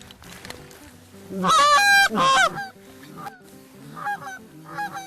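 A flock of geese honking loudly overhead during an early-season goose hunt, a burst of overlapping nasal calls that swells then tapers into scattered honks, with a bit of human voice.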